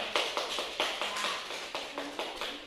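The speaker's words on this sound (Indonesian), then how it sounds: "Pintar, tepuk tangan untuk kelompok Aidil." Schoolchildren in a classroom clapping for a classmate's group in a rhythmic, unison pattern, a series of sharp evenly spaced bursts repeating steadily, close and moderately loud.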